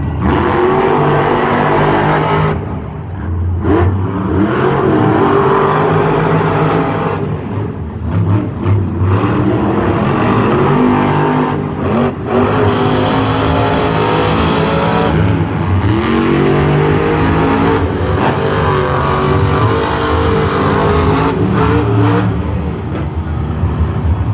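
Monster Jam trucks race at a live arena show in San Diego, their engines roaring loudly and continuously as revs surge and fall with brief dips in the din.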